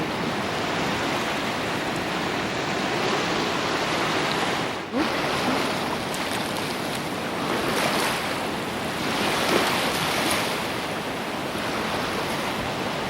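Ocean waves wash continuously onto a Miami beach on a morning shoreline, a broad steady roar of surf with some wind rumble, close and constant throughout, with no talking.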